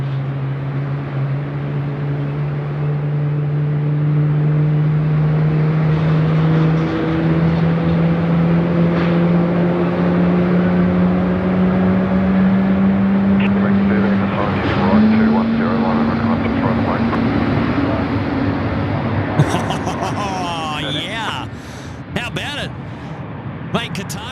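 Aircraft engines spool up at night at Sydney Airport, a loud, steady droning whine with tones that climb slowly, heard close with talk over it.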